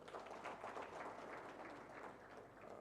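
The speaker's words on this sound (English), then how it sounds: "let's clap for them." An audience at a USAID regional health integration event in Uganda claps for the programs, a soft, even patter of many hands that fills the moment at moderate distance.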